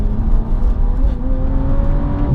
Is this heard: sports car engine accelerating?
yes